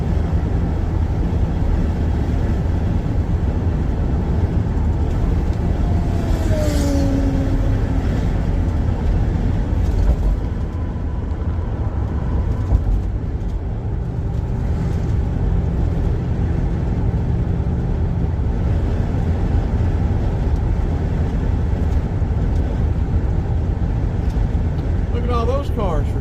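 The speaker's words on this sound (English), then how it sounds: "Of course, we're driving a little bit slower." A car drives slowly along a scenic Tennessee road, giving a steady, loud low rumble of engine and road noise throughout, with brief faint tones and voices in the background.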